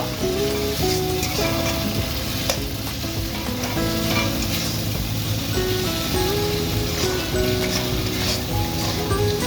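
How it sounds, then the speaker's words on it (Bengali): Spice paste with chilli powder and turmeric being sautéed in a pan for a lentil and puffed-rice dish, a dense, loud, continuous sizzle with frequent spatula stirring scrapes close by. "ভালো করে মশলাটা কষিয়ে নেব"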